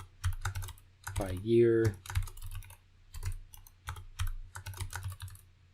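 A computer keyboard being typed on at close range in short bursts of clicky keystrokes, under a voice.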